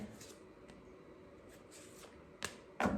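Tarot cards are shuffled and drawn at a reading, giving soft, faint rustling and a couple of sharp close flicks near the end, with no voices.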